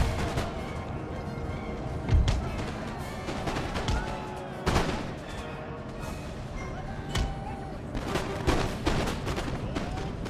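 Musket volleys and artillery booms from troops in the video game Empire: Total War, a dense, continuous battle din with heavy thumps and crackling shots layered throughout.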